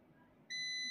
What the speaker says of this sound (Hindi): यहाँ पे भी ये बीप आ रही है